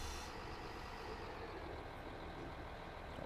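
A DB BR 642 diesel railcar braking in Train Simulator 2022 on a northern German route to Lübeck, heard as a steady, fairly quiet low rumble of the running railcar that continues evenly without distinct peaks.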